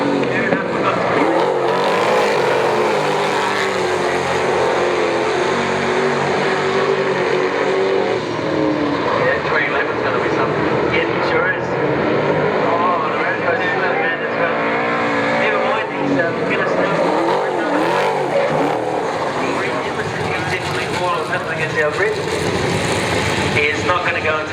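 Super Saloon race cars at Wellington Speedway roar around the track in a loud, continuous engine din with tire noise, as a commentator talks over the racing throughout.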